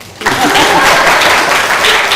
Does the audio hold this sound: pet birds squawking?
no